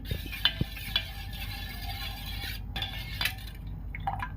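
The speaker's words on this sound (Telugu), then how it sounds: "సో ఇలా మొత్తం కలుపుకోవాలి గడ్డలు లేకుండా" A spoon stirs yogurt for a curd curry, giving soft liquid swishing with a few sharp clinks against the pot, close and fairly quiet, with no voices.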